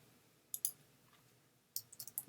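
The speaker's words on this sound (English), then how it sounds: "Let's see if I can type that." Faint, sparse clicks of computer keyboard typing during a livestream: a quick pair of taps, a pause, then a short burst of several keystrokes, all quiet against a low background hum.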